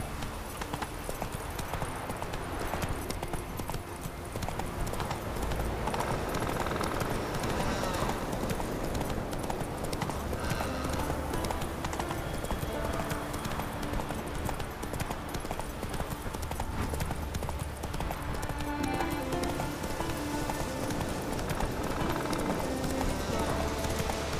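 Roach, a horse in the video game The Witcher 3, gallops with a continuous rapid drumming of hooves, loud and close, while voices speak over the pounding rhythm.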